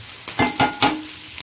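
Ginger, garlic and chilli fry in hot oil while being stirred for homemade veg momos, a soft sizzle broken by three quick scraping stir strokes, heard alone and up close.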